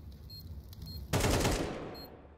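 A sudden burst of gunfire erupts during a professional Counter-Strike match between MIBR and 9Z, one sharp loud blast after a quieter stretch of game ambience, then fading.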